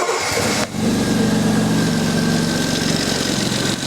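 A 4.2 litre Jaguar XJ6 engine catches after a brief starter crank and settles into a loud, steady idle with a smooth, even rumble, heard close up with no voices.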